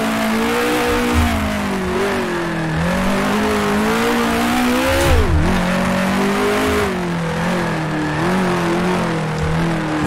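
A 1966 Formula 1 race car in Grand Prix Legends roars loudly and steadily, its engine pitch rising and falling through a series of downshifts with a sharp dip midway, tire noise beneath.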